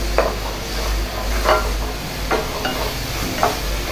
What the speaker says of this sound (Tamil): இதே மாதிரி நல்லா எண்ணெய் மேலே வர வரைக்கும் வதக்கிக்கலாம்.